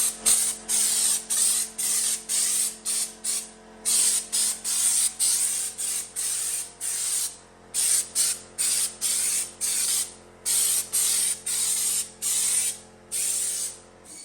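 Stone guard coating sprayed onto the rear doors of a monster truck trailer, in a steady rhythm of hissing bursts that each last about a second, close and loud, with brief pauses between passes.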